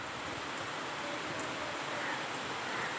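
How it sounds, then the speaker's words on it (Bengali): A steady, faint wash of falling rain, continuous and even with no distinct drops or other sounds. "দেখো কি সুন্দর বৃষ্টি হচ্ছে"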